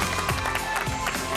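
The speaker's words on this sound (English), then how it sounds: "All right, start clapping." A crowd of friends and family claps and cheers to welcome a surprised guest, a dad home after a cancer battle, with steady, dense applause close by and scattered shouts throughout.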